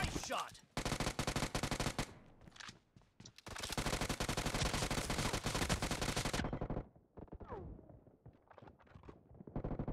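Long, dense bursts of automatic gunfire from the video game PUBG Mobile, loud and continuous, broken by short gaps with softer shots and movement.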